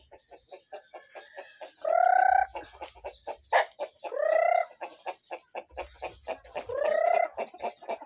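Backyard chickens cluck in a quick, steady series of sharp pulses, broken three times by longer drawn-out calls, loud and close with no talking.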